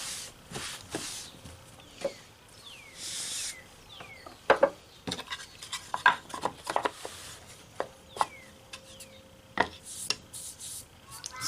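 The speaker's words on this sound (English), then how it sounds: "this is an ultra hard, ultra fine Arkansas oil stone. And you can tell a difference in the sound and in the feel" A fillet knife drawn across an ultra hard, ultra fine Arkansas oil stone makes soft, scattered scraping strokes and taps at close range, with small clicks between them and no talking.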